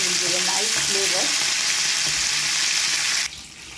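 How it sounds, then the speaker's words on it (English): Curry leaves hit hot tempering oil for a South Indian coconut dal, giving a loud, close, steady sizzle and crackle with a few stirring scrapes before it drops off sharply near the end. "Now we can add curry leaves to this."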